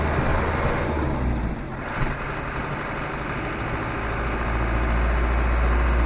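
A Land Rover 110 engine drones steadily with its clutch being slipped in first gear, a loud, continuous low rumble that dips briefly and then builds again, heard from inside the vehicle after a snowstorm.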